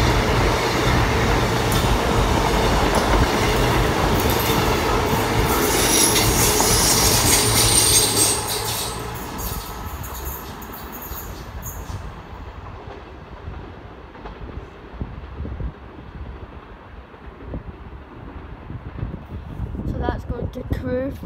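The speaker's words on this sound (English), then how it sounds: "So we've got a Super Voyager 221 heading for Crewe." Class 221 Super Voyager passenger train passing at speed, a loud close roar and wheel rumble that fades after about eight seconds into lingering clatter, with a voice talking.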